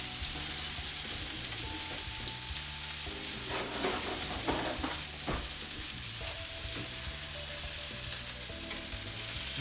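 Bourbon-marinated salmon sears in a hot pan, giving a loud, continuous close-up sizzle with crackling spits and occasional faint tool clicks, and no one speaking.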